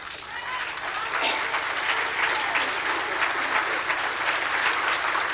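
An audience at a lecture breaks into applause, the clapping swelling within the first second into a dense, steady patter that carries on for about five seconds, fairly close and with no voices standing out above it.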